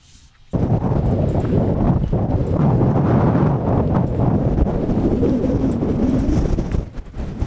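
Strong wind roars across the microphone outdoors at a trout-fishing spot, a loud, steady rushing buffet that starts abruptly and holds for several seconds before easing.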